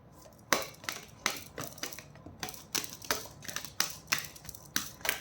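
A deck of playing cards being shuffled for a reading, heard as a series of sharp, crisp riffles and slaps in irregular bursts, close and moderately loud, with no talking.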